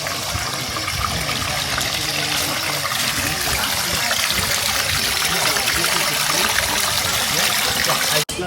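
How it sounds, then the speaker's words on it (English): A small stream of water runs through a cave, a continuous close trickling and splashing babble heard steadily throughout, with a brief break near the end. "There's a little small stream running through."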